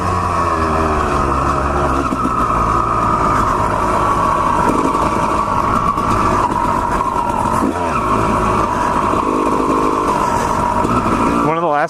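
A Kawasaki Ninja motorcycle engine runs steadily and loudly, holding a constant close drone throughout with little change in pitch, and a brief rise at the very end.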